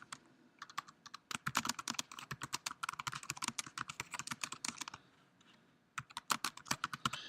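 Fingers typing on a computer keyboard, a rapid close run of light key clicks in uneven bursts with a short pause before a final flurry.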